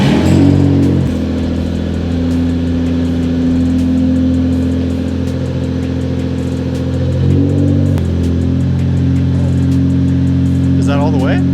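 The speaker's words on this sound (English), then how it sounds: "Let's start it up." A Toyota Supra MK4 engine is started and runs loud and close, with a steady throaty idle and a couple of revs rising and falling; voices are faintly audible near the end.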